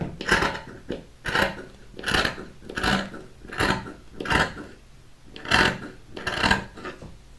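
Scissors cut the fabric of a traditional Moroccan djellaba sleeve. There are about nine rhythmic, crisp snips, close and moderately quiet, with brief pauses between them.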